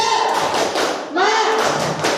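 A classroom group performs a rhythmic spirited cheer clap, short patterned claps and thumps mixed with voices chanting along, close and fairly loud.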